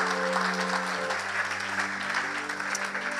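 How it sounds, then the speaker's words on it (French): Church congregation applauding and cheering at a worship gathering, a dense steady clapping wash that fills the whole moment at close range, with faint held musical tones underneath. "Est-ce que tu peux acclamer pour toi-même d'abord?"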